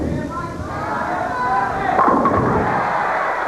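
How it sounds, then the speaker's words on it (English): A bowling ball makes a pocket hit for a strike in a 1988 AC Delco professional tournament match, a thudding crash of scattering pins in a noisy bowling center while a commentator talks over it. "Pocket hit, and it's his first strike."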